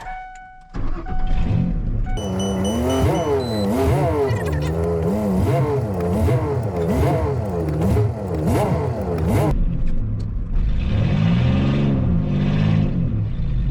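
A 2WD Ford Ranger pickup stuck in snow revs hard and repeatedly, engine pitch surging up and down in a wavering rhythm for several seconds before easing off, then revving again; loud and close.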